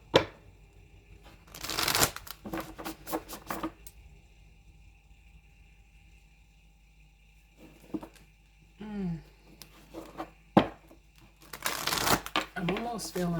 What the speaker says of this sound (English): Let me get a few more shuffles on this.